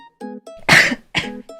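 Two harsh, close coughs from a woman, a longer burst followed by a shorter one, heard alone over soft tonal background sounds.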